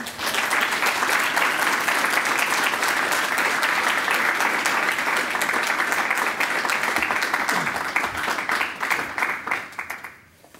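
Sustained audience applause for a poet at an evening poetry reading series, steady dense clapping from a full room that holds evenly for about eight seconds before tapering off and fading out at the end.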